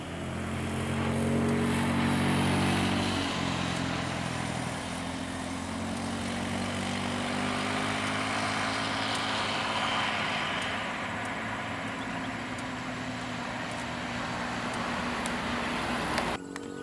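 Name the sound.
NPM, Al Hijrah and Sembodo buses passing on road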